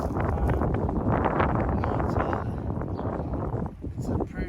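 Steady outdoor wind buffets the microphone with a low, rumbling roar that persists throughout, loud and close.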